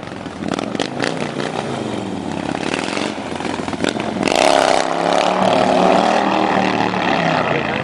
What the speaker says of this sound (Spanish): mostremos el video de las acrobacias que se hacen en una moto chopper, en una moto custom, perdón, de la Harley Davidson